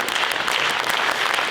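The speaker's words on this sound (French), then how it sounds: "plus vous vous rapprochez de la scène avec Jean, plus les gens vous applaudissent" Audience applause fills a large arena at a mentalism show, a dense and steady clatter of many hands clapping at once, loud and close with no speech over it.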